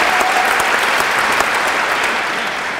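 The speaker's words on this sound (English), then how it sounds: "A round of applause for Danny and all 5 of our wonderful judges." A crowd at a poetry slam event in Portland gives a loud, steady round of applause for the judges, dense and continuous from start to finish with no voices breaking through.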